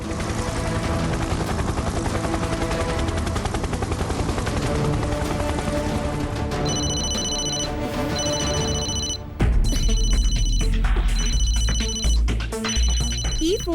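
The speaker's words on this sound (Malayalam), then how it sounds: "ഈ ഫോണിലേക്ക് ആരോ കോൾ ചെയ്യുന്നുണ്ട്." Phone ringing in an animated cartoon, with repeated electronic ringtone bursts sounding over a busy, loud mechanical soundtrack that includes a rapid rattling and whirring layer.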